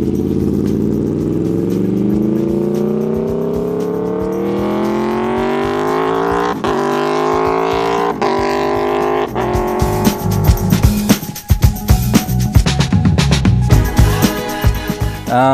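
Aprilia motorcycle with an open exhaust revs loudly and steadily, its pitch climbing over several seconds, then cracks and pops into a rough, burbling idle with sharp exhaust bangs.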